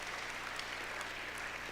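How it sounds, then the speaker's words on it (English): Audience applause at an aviation hall of fame induction ceremony, a continuous wash of many hands clapping, even and somewhat distant, with no break across the short stretch. "Give a round of applause for that."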